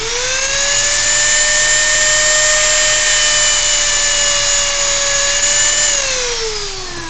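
A Dremel rotary tool at its top speed of 35,000 rpm cuts into PS plastic, giving a loud, steady high-pitched whine that holds for about six seconds, then drops in pitch as the tool slows.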